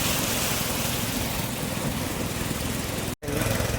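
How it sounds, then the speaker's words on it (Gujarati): A vehicle creeps through floodwater on a rainy road, its engine droning under a dense, loud wash of splashing water and rain, with a brief cut near the end. "ધીમે ધીમે ગાડી કાઢે છે પાણીથી"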